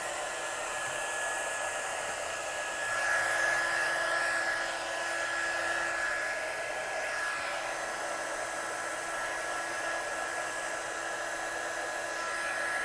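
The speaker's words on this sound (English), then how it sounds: "So we'll just heat set this one, so get your gun good and hot" Heat gun blowing hot air to set embossing powder on a stamped card, a steady, close whooshing fan roar with a thin whine on top, continuous and unchanging for the whole stretch.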